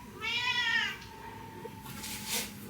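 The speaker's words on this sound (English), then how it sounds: "Look who's paying us a visit. It's my neighbor's cat." A neighbour's cat gives one clear, drawn-out meow close by on a wet, rainy afternoon, followed by quiet background hum and a couple of faint soft noises.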